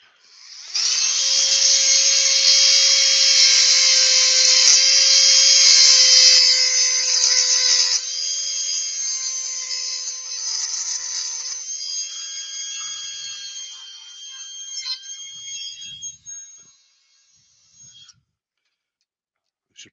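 A texturing tool works the surface of a wooden bowl spinning on a lathe, giving a loud, high, steady whine close by. It softens partway through, trails off into quieter rasping, and stops near the end, with no speech.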